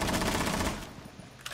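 Rapid automatic gunfire in Rainbow Six Siege, a dense burst of shots that fades into quieter scattered noise after a second.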